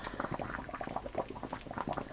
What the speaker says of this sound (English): So this has been bubbling. I've had to refill my double boiler to keep that in water.